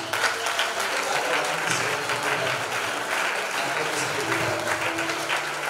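A congregation at a church sermon bursts into steady, dense applause that fills the room from start to finish, with a faint voice or tone underneath.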